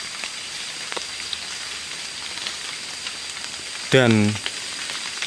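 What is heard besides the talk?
rain falling at night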